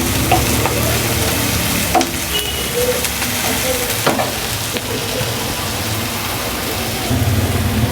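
Mustard seeds and chillies sizzle and crackle in hot oil over a gas flame for saag, a dense, steady frying hiss with scattered pops and stirring, loud and close, with no talk.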